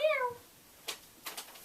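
Iris the cat gives a single short, faint meow at the start, followed by quiet room sounds and a few soft bumps or rustles.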